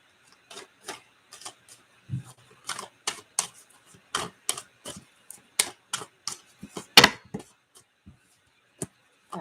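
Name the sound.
tarot cards falling out while shuffling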